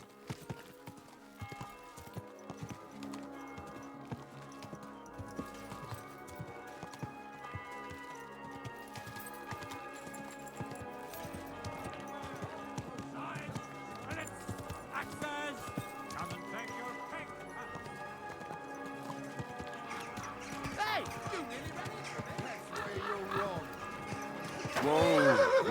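A horse in the medieval video game Kingdom Come: Deliverance II gallops with steady rhythmic hoofbeats, neighs and whinnies, under game music and character voices, and the sound grows louder toward the end.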